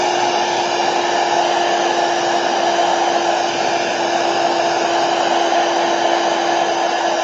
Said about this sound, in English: Hit it with the heat gun real quick.